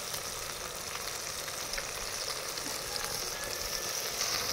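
Spice masala with salt and ginger-garlic paste frying for a pangas fish curry, making a soft, continuous sizzle with faint hiss and light stirring, quiet and close, with no talking.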